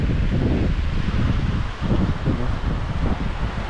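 Strong wind blowing at a shoreline on an island fishing trip, a loud, steady rumbling roar buffeting the microphone with rustling gusts throughout, no voices clearly heard.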